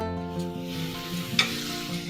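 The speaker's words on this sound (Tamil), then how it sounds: "இந்த காயெல்லாம் கொஞ்சம் எண்ணெயிலே வதங்கட்டும்." Baby corn, peas and beetroot sautéing in oil, a close steady sizzle with a quiet stirring scrape and a single sharp clink near the end, over a faint hum.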